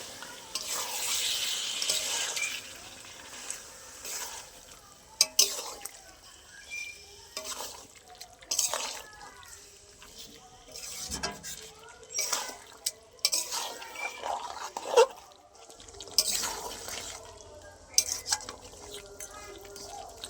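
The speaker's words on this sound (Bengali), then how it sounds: "মাংসটা কষার সময় অল্প অল্প করে আমি জল দিয়ে ভালো করে কষে নেবো" Chicken cooking in spices, with water added a little at a time, sizzles softly under irregular stirring and scraping of a utensil against the pot, with occasional louder clinks, close and moderate in level.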